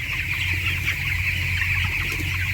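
Broiler chickens in a coop, young birds raised from one to thirteen days old, clucking continuously at close range over a steady low hum, with no talking.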